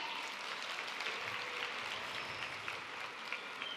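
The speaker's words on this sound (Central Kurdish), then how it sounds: "چەپڵەکانتان بۆیان" Audience clapping for small children at a World Children's Day celebration in an arts hall, a steady dense wash of applause sustained throughout with no talk over it.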